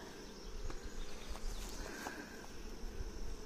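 Honeybees buzz steadily around an open hive while a caged queen is introduced into a nuc, a close continuous drone with individual bees whining past, and no voices.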